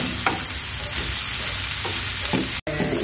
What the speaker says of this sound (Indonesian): Selanjutnya kita masukkan kol dan daun bawang.